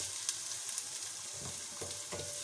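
Onions sauté in a pan for an arvi masala dish, giving a steady soft sizzle with a few faint stirring scrapes and clinks over it. The sound is low and even throughout.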